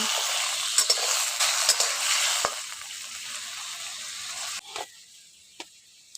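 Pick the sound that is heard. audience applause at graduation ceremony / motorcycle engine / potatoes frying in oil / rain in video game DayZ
potatoes frying in oil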